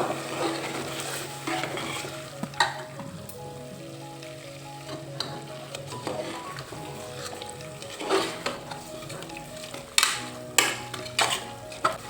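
Chopped tomato being stirred into chicken masala in a pan: a soft sizzle runs throughout beneath repeated scraping strokes and sharp metallic clinks of a spoon against the pan, with no talking.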